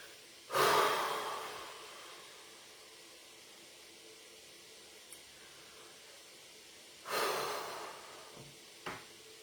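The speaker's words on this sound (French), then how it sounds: "Je vous invite encore à expirer fortement et tousser si ça vous parle." Two forceful, breathy exhalations, each a sharp rush of air that trails off slowly, separated by a quiet pause, with a brief faint puff near the end; close and intimate, no talking.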